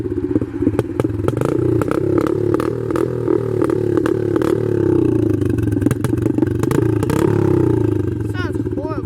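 A dirt bike low on oil runs rough, its engine chugging unevenly and loudly up close, with clattering knocks and thumps throughout and people talking over it.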